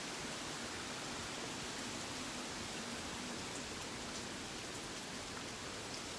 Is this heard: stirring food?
no